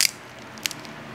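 A single sharp crunchy bite into a slightly soggy, oily Filipino lumpia spring roll, loud at the start, followed by a couple of fainter crackles while chewing.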